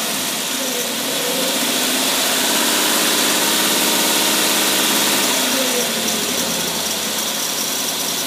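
A small single-barrel carbureted engine runs steadily outdoors in hot weather, with a continuous mid-pitched idle and a light vibration. The sound stays loud and close for the whole stretch, and nobody speaks over it.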